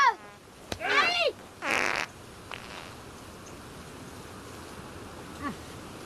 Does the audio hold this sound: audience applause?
no